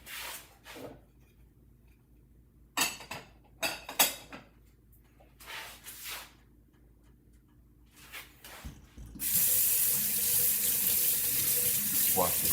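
Water runs steadily from a kitchen sink tap during cooking, starting partway through as a continuous, fairly loud hiss after earlier intermittent clatter and brief talk.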